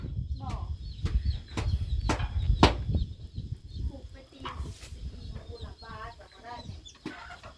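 Chickens cluck around a rural home, with short clucks and squawks close by over a busy background of knocks and chopping. People talk now and then.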